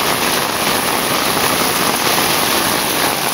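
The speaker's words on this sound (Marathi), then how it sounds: "जाम पाऊस लागतो." Heavy monsoon rain drums without a break around a village house in the Konkan, a loud, even, close wash of falling water with no voices.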